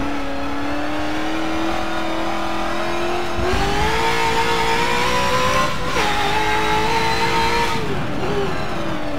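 A race car engine in Forza, one of a Group 5 IMSA-era field with the Audi 90, Nissan 300ZX and Mercury Cougar XR7, revs steadily up toward 9000 rpm with brief dips at each shift, loud and continuous with no talking.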